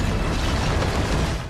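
A loud, dense explosion from the Soul Land 2 animation, a continuous roaring blast with rumbling low end and crackling debris filling the whole moment, no voices.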